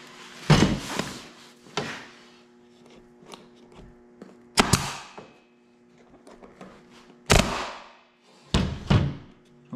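A staple gun tacks fabric onto a jet ski seat, firing about four sharp, close clacks separated by pauses, with softer handling knocks in between.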